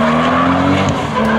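Car drifting on Destino tires at a drift party, loud continuous tire squeal over a steady engine drone, close and unbroken throughout.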